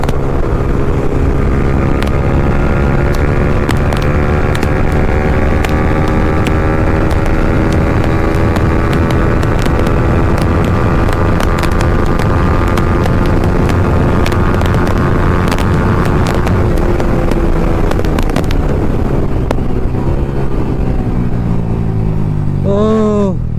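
Motorcycle at top speed of about 130 km/h in a drag race between a V3 and an NS160, a steady loud engine drone with rising tones and constant wind roar buffeting the helmet, continuous throughout.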